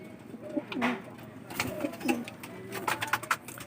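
Soft, low cooing from racing pigeons nearby, a few repeated throaty coos over a faint outdoor background with light rustling.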